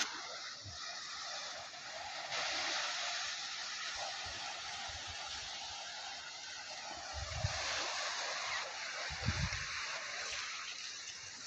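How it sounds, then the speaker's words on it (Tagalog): Steady broadband wash of surf with waves rolling in, a few low thumps of water or wind buffeting, no voices. "Dagat lang yan."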